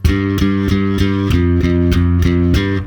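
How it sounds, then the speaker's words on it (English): A distorted electric bass riff thumps in a steady pulse of repeated low notes, loud and close, with no one talking. "between each of these bass breaks, we have the main riff, which simply sounds like this"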